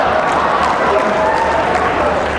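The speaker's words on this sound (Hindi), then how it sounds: "ताली इस पे नहीं बजानी थी," Audience applause at a Hindi kavi sammelan poetry event, a steady, loud wash of clapping from a large crowd filling the whole moment without pause.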